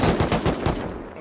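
Rapid automatic gunfire in the Rust survival video game, a dense burst of loud, closely spaced shots filling the whole moment with no talk over it.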